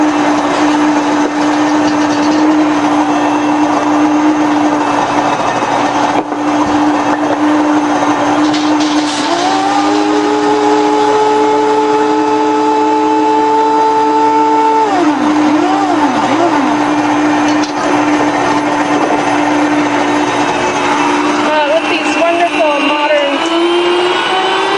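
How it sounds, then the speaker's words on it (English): A seed grinder whirs loudly as it grinds golden and brown flaxseed into meal, with a high steady motor whine whose pitch shifts partway through, close by and continuous. "I'm going to put a little bit of this into my seed grinder and make some flax meal."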